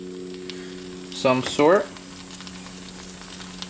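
A Russian National Guard ration meal of peas and carrots sizzles and heats in a pan, a soft steady fry under a brief spoken phrase in the middle.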